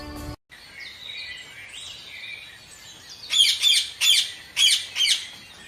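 A wounded parrot in a Hindi moral story chirps and squawks in five short, loud, evenly spaced calls near the end, after a quieter stretch of softer tweeting.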